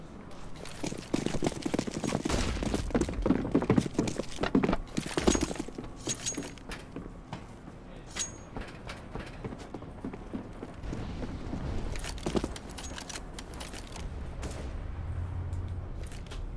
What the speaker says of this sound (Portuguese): Falhou o primeiro tiro, falhou o segundo tiro, acertou o primeiro tiro, muito bom tiro aqui por parte do Killdream.